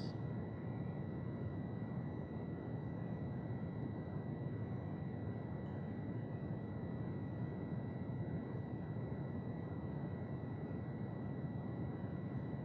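Detroit Multirotors WP17 prototype FPV quadcopter hovering steadily in place, a constant broadband propeller whine with fixed tonal lines, unbroken and fairly close for the whole span, no voices.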